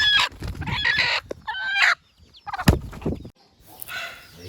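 Several native country hens cluck and squawk nearby in bursts, with a sharp thump partway through and quieter clucking trailing off at the end.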